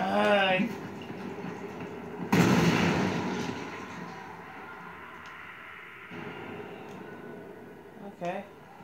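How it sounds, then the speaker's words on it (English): A sudden loud explosion booms in the Dying Light video game, a heavy blast with a rumbling tail that fades over several seconds, preceded by a brief voice and followed by quieter game sounds. "That was more big of an explosion than I thought it could be."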